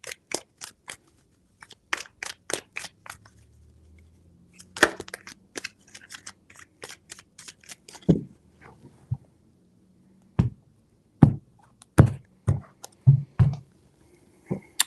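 Tarot cards shuffled by hand, three shuffles, give crisp close-up snaps and papery taps in quick clusters with short pauses, ending in a run of louder, more spaced slaps; no talking.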